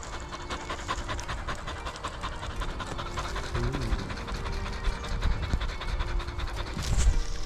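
A female dog pants rapidly and steadily, close by, with a faint rhythmic rattle like a passing train in the background.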